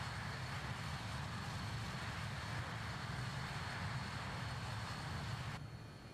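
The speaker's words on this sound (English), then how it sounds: "It's like such a flipping loud jet though." Steady, loud roar of a BAe 146 jet's engines in Microsoft Flight Simulator, a constant broadband rumble with a high whine, heard from outside the aircraft and dropping slightly at the end.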